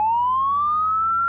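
A police car siren wails loud and close, one steady rising tone sweeping upward over a low engine rumble, heard alone with no voices.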